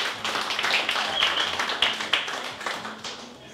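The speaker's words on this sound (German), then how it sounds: "Großen Applaus für den Macher vom morgigen Abend" Audience applause at a boxing weigh-in in Hamburg, dense steady clapping from a crowd with a few sharper individual claps, sustained throughout at moderate loudness.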